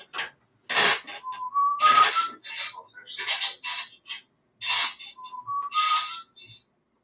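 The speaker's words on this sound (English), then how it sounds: "A little bit of whistling, and that is actually painful." A person whistles close into a microphone in short bright bursts and rising slides, some piercing and loud, with breaths and brief pauses between phrases.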